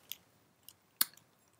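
A few sharp snips of scissors cutting through a product sticker on a small skin care container, three brief clicks with the loudest near the end, close and otherwise quiet.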